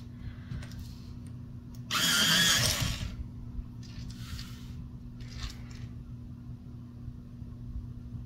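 Colored pencil being sharpened, one loud gritty grinding burst lasting about a second, followed by a few fainter scraping twists over a low steady background hum.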